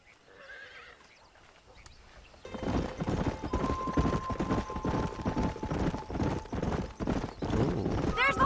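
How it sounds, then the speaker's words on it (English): In Red Dead Redemption, a horse whinnies faintly in the distance, and then rapid hoof clip-clops set in and keep a loud, driving rhythm, joined by a second neigh near the end. "There's the horses!"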